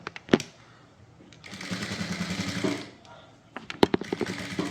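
A sewing machine runs in two short bursts while stitching the main fabric of a blouse front, a close, buzzing whir with small clicks and thumps between the runs.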